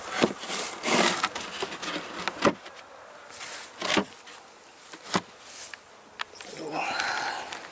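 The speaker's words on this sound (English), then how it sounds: "I'll just whip by the front of the hives now to show you how active these bees are." Honeybees fly in front of hives on a winter day, a steady insect buzz rising and falling as individual bees pass close to the mic, with brief handling knocks and a louder swell near the end.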